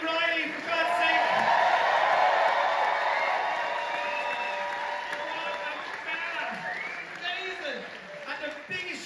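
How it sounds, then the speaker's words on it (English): An Edinburgh Fringe showcase audience breaks into applause and cheering, loud at first and gradually thinning out, with scattered whoops and voices mixed into the clapping. "Give a round of applause"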